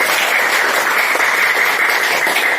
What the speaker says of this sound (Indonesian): Kita beri tepuk tangan untuk balik.